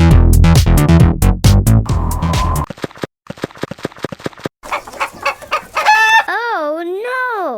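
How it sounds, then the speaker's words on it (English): Lively music opens, then a toy farm hen clucks in a quick series of short, close clucks. A long, rising and falling crow-like call closes the sequence. "Hen."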